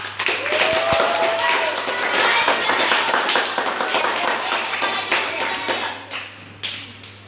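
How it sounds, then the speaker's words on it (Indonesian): A group at a Sunday children's catechism gathering claps together, brisk overlapping hand claps and taps nearby, with voices talking over the clapping. "Kita kasih tepuk tangan loh."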